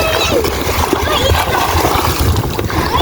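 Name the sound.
water splashing while swimming in the sea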